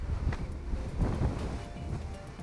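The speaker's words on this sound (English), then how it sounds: "Bit windy today, which is a shame" Gusty wind blows across an open fishing lake, a low rumbling buffet that pushes against the microphone in uneven surges, with no voices over it.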